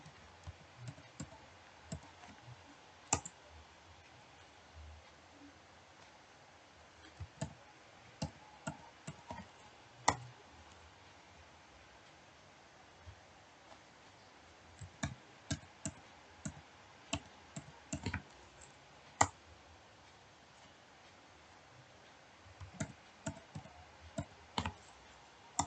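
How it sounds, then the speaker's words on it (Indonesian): A computer mouse clicks in scattered single and double taps while cells are selected in an Excel spreadsheet, crisp and close against a quiet background, with no voices. "Kita klik sel yang ada di harga jual"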